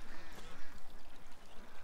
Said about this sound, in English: I'm just blown away by the amount of water that's flowing through this thing.